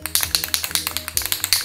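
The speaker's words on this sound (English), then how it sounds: "Make sure you get this rattle sound while spraying" An aerosol can of acrylic lacquer spray varnish is shaken, its mixing ball rattling in quick sharp clicks at a fast, steady rhythm, close and clear.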